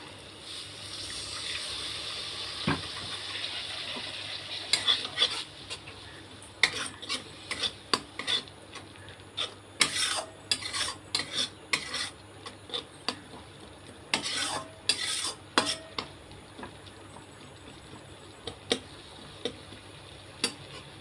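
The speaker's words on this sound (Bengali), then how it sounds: "সামান্য জল দিয়ে কষিয়ে নেব" A curry is stirred and sautéed in a pan with a little water, a faint low sizzle under repeated sharp clinks and scrapes of a utensil against the pan, coming in irregular bursts.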